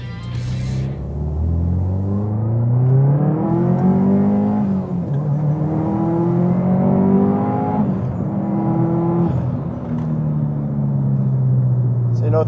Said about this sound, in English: Do a little wide open throttle stuff here and see how the car goes.